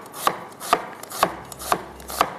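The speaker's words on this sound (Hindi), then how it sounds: "तो चलें प्याज के हम यहाँ पर स्लाइसेस कर लेते हैं।" Onions sliced on a cutting board for mutton stew: five crisp, evenly spaced knife chops about half a second apart, close and clear with nothing else.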